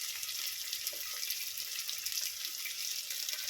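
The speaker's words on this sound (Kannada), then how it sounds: "ಈರುಳ್ಳಿ ಸ್ವಲ್ಪ ಚೆನ್ನಾಗಿ ಫ್ರೈ ಆಗಬೇಕು" Onions and dried red chillies frying in a pan make a faint, even crackling sizzle with small pops, steady and close, with no voices.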